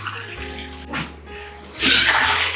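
Ice water pours in short splashy bursts in a tiny kitchen, a brief trickle early and a longer, louder pour near the end, over a low steady hum.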